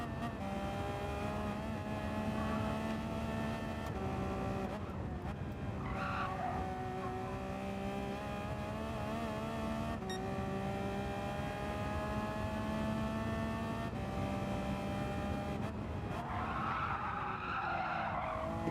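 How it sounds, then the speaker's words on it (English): Race car tyres squeal and skid continuously in Gran Turismo 7 at Michelin Raceway Road Atlanta, a loud sustained engine drone with sliding screeches rising near the end. "you could just hear the tyres squealing in a way that the Genesis didn't"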